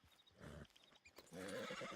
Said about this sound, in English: Okay, no, those are just normal wild horses